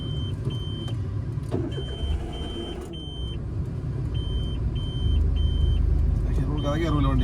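A car engine labours up a short, steep slope during a driving lesson, a steady low rumble that grows heavier toward the end, with a repeated electronic beep pattern and a brief voice near the close.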